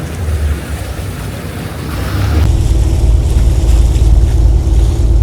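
Gondolas and boats moving on the water in Venice make a steady wash of water and low engine rumble that grows louder midway, close and continuous with wind noise.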